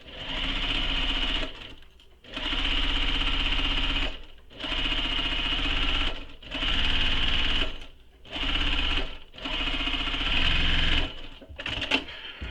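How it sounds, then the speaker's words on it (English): A domestic sewing machine stitches the bottom edge of a canvas-style tote bag in repeated bursts, about six runs of loud, close whirring separated by brief pauses, with a few clicks at the end. "now I'm going to sew this bottom edge with the seam allowance given in the pattern"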